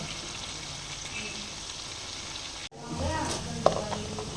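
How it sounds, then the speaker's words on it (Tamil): Coriander and mint leaves fry in hot oil for a mutton biryani, a soft steady sizzle with a clatter of stirring after a short break partway through. "எண்ணெய் சூடாகி வரும்போது கொத்தமல்லி புதினா ரெண்டையும் சேர்த்துக்கோங்க கிண்டி விட்டுக்கிட்டே இருங்க"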